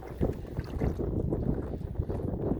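A 1958 Johnson 10 HP outboard motor runs close by, giving a low, fluttering, pulsing rumble with a watery churn and some wind buffeting, no voices.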